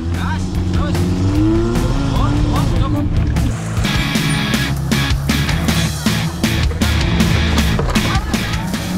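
Jeeps from a local club drive together on an off-road trail on Bawean, their engines roaring loud and close in a continuous growl with clattering bumps, while people talk over them.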